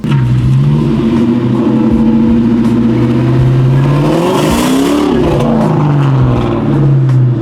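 A Ford Mustang Bullitt V8 revs loud and close, a deep steady engine roar that climbs and falls in pitch around the middle before settling back to a rumbling idle.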